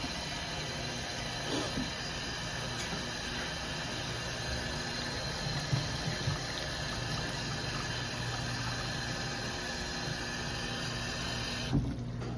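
Steady broadband rush of boiling-hot water pouring into a container, continuous and fairly even for the whole stretch, with a small clunk near the end.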